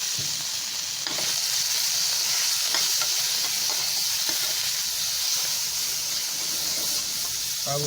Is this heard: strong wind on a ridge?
no